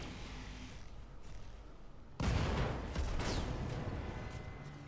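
Mech weapons fire in the Roguetech video game: after a quiet stretch, a sudden loud blast erupts and rolls into a sustained, booming salvo of fire that slowly fades.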